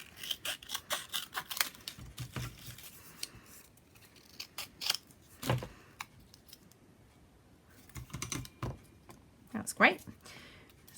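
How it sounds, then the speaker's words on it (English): Scissors roughly cut paper and cardboard tree shapes in a series of close, crisp snips and slicing bursts, separated by quiet pauses and light handling rustles. "So I'm just going to roughly cut these"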